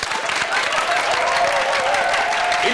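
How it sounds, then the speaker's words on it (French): An audience applauds at a lunchtime event, continuous crowd clapping with a faint voice or tone weaving through underneath, fairly loud and even. "Merci de vous applaudir comme il se doit"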